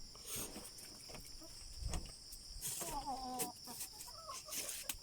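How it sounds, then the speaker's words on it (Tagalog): A backyard rooster on a rural Filipino farm clucks and crows in short bursts, fairly close, over a steady high insect drone with scattered rustling. "Ito pala yung manok ko guys"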